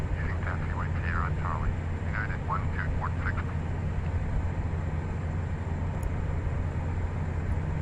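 Simulated Pilatus PC-12 turboprop taxiing in Microsoft Flight Simulator X, a steady low engine drone running throughout, with a voice talking over it for the first few seconds.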